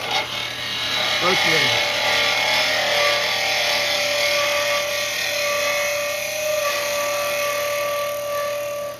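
Inside steps of a wooden opening being smoothed with a power tool, a steady loud whirring and grinding that runs almost without a break, with one brief lower tone shift near the start.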